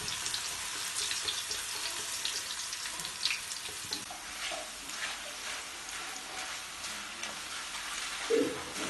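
Raw banana slices coated in turmeric fry in coconut oil for homemade chips, a steady soft hiss and crackle bubbling evenly throughout, quiet and close with no talking.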